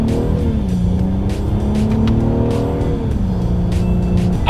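A 2020 Acura TLX in Sport Plus mode accelerates hard, its engine note climbing and dropping as paddle-shifter gear changes cut in, loud, steady and close from inside the car, with no talking.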